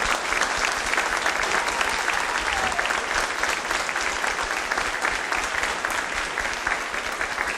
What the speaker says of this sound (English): I'd like to offer a big round of applause to our principal.